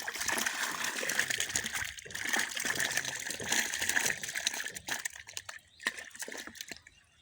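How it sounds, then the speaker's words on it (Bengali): Large taki (snakehead) fish thrash in water inside a bucket, making irregular close splashes, slaps and trickles that thin out toward the end. "মাছগুলো লাফালাফি করে।"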